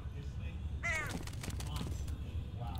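Crows caw twice in the F.E.A.R. Extraction Point video game, harsh raspy calls standing out against a steady low ambient rumble, with a faint higher cry near the end.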